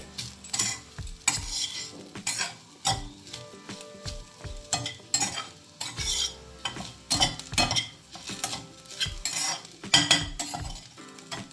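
A spoon scrapes and clinks against a pan as dried coconut and onion are stir-fried, making rhythmic stirring strokes over a light sizzle, close by and with no voices.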